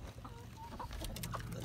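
Backyard chickens on a homestead cluck softly in a few short calls over a busy background of outdoor noise.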